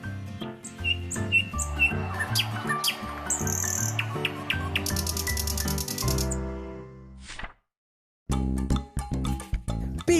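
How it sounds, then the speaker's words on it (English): A nightingale sings a rapid, varied song of chirps, trills and rattling notes, close and clear, breaking off briefly before resuming. "Nightingales sing."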